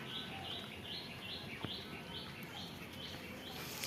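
Faint, repeated high chirps from newly hatched high-flying pigeon chicks come from inside a loft, a soft rhythmic peeping over low background noise.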